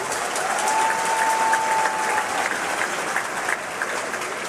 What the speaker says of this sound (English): give our families, faculty, and staff a round of applause for the support that led to this day.